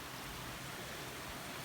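A mountain waterfall in Bulgaria makes a steady, even rushing wash of falling water, soft and somewhat distant, unbroken and with nobody speaking.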